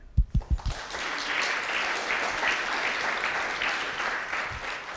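An audience at a graduate research presentation competition final claps warmly, with a few sharp individual claps at the start before sustained, dense applause that fills the hall, with no talk over it.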